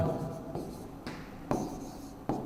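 Pen or marker writes on a board during a lecture, producing close scratchy strokes broken by sharp taps roughly every half second to second, with the lecturer quiet at this moment.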